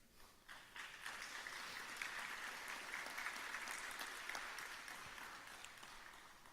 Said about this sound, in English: Was that applause for me?